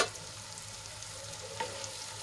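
Onion and tomato cook in a pan, giving a low, even sizzle that bubbles steadily throughout, with a faint scrape or two and no talking.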